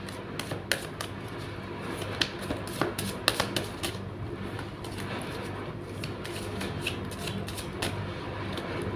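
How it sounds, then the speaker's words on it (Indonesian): Tarot cards shuffled by hand in a steady run of soft riffling clicks and slaps for the whole stretch, close and fairly quiet, with no voice. "Saya shuffle terlebih dahulu."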